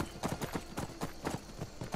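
Horse hooves clip-clop in Skyrim in a quick, steady rhythm of about eight close, clear hoofbeats, heard alone.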